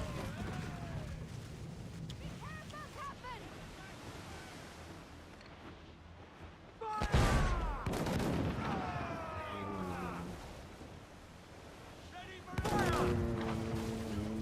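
Ship cannons booming in Assassin's Creed 4 naval combat, two heavy loud blasts a few seconds apart over a steady wash of sea and battle noise, with voices shouting between them.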